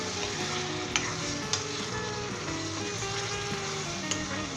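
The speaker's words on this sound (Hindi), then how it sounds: "अब हम इसे भूनेंगे" Chicken masala (azeem murgh) frying and being stirred in a pan, a steady sizzle with soft utensil scrapes and a few light clicks against the pan, continuous throughout.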